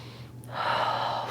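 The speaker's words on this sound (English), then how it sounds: "Breathing here for 5" Breathing during a seated yoga backbend while leaning back on the heels, heard as a soft breath drawn in, then a longer, louder airy exhale close to the microphone, with no talking.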